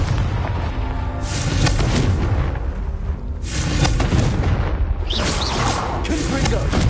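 Confringo blasting-spell explosions burst in Hogwarts Legacy, loud and close, with several heavy booming blasts in quick succession over a dense rumbling game soundscape.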